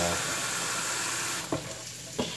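Steak and asparagus sauté in a hot pan, giving a steady sizzle that thins out partway, with a few clanks and stirring knocks near the end.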